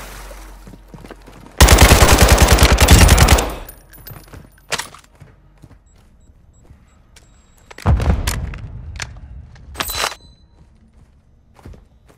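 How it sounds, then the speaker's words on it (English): Gunfire in the Call of Duty DMZ video game: a long rapid automatic burst, then scattered single shots and a second heavy burst, loud and close with quiet gaps between. "Taking effective fire!"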